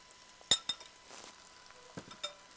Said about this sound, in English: We're just stirring it up.